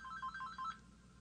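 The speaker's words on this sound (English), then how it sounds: "Phone ringing." An electronic phone ringtone plays a short repeating melodic pattern of bright tones, clear and steady over a low background hum, heard alone without any talking.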